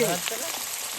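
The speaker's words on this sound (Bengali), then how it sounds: "এবার আলু ভাজা হচ্ছে" Steady broadband sizzling of potatoes frying in oil, continuous and close, outdoors at night by a river in the Sundarbans, with a brief voice-like tone at the start.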